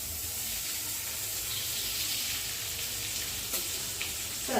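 Cooking oil poured over a dish of cowpeas in a pan sizzles and fizzes steadily, a soft continuous frying hiss with a few brief spatters and clinks near the end.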